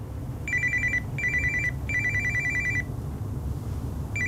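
A telephone rings in bursts of rapid electronic trilling, four rings spaced evenly over a low steady hum, clear and moderately near with no voices.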